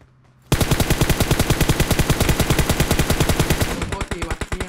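Rapid, loud automatic gunfire rattles without pause for several seconds, a relentless burst of PUBG Mobile shots that tapers slightly near the end.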